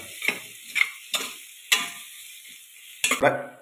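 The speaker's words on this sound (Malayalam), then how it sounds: "നല്ലോണം വഴറ്റിയെടുക്കുക." A spatula scrapes and stirs garam masala and chili powder sautéing in a pan for egg biryani, with about six distinct scraping strokes over a soft sizzle, close and clear, no voices.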